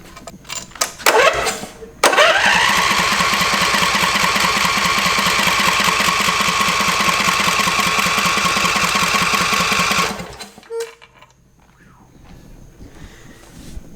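A used zero turn mower's engine cranks briefly, catches and runs loud and rough for about eight seconds, then shuts off into quiet.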